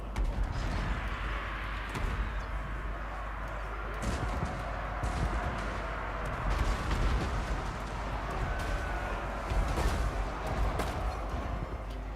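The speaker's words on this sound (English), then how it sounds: "fire drakes shooting there" Fire drakes shooting in a fantasy video game battle, a dense, steady clatter of crackling shots and impacts under continuous battlefield noise, with faint talk at times.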